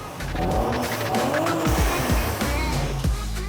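A powerful turbocharged car engine on 1 bar boost roars and revs while tires squeal in repeated skids, loud and close throughout.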